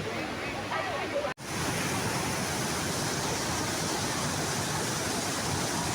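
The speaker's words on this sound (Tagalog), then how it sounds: "ang ganda ng bagsak ng tubig" Falling water at Majayjay Falls roars steadily and close, a dense continuous rush with a brief dropout near the start.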